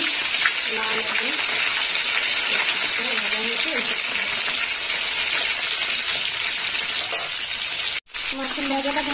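Steady hissing sizzle of rohu fish pieces frying in hot oil, cooked for a mango fish curry, runs unbroken and close, with a voice speaking over it and one brief cut near the end.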